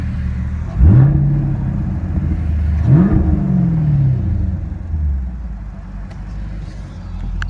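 A sports car engine revs hard twice close up, each rev a quick rising roar that settles back to a deep, rumbling idle between the bursts.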